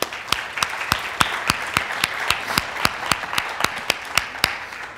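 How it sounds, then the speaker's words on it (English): Scattered, fairly sparse clapping from a church congregation applauding seven newly baptized people, with distinct individual claps over a steady wash of applause throughout. "Y'all give them a round of applause again."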